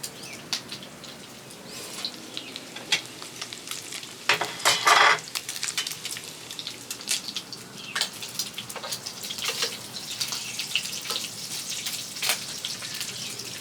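Bacon frying in a pan at a home breakfast, with soft crackling sizzle and scattered pops and stirring clatter throughout, close and fairly quiet.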